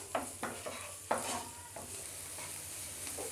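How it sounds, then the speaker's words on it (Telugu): Green chillies frying in hot oil for street-style onion samosa filling, a steady close sizzle with a few sharp stirring scrapes near the start and middle, no talk. "పచ్చిమిరపకాయలు, వేసి కొంచెం ఫ్రై చేసుకోవాలి"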